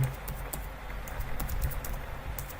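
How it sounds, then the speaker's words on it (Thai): Keys tapped on a computer keyboard while entering an npm install command in a terminal, a quick run of soft irregular clicks over low background hum, close and moderately quiet. "ก็พิมพ์เลย npm"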